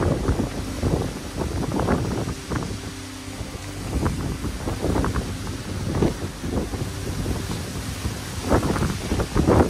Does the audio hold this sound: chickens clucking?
no